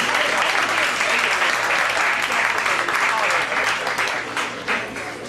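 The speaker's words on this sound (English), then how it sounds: "everybody give her a gigantic round of applause." Loud, sustained applause from an audience at a mentalism show fills the space, a dense wash of clapping that slowly tapers toward the end.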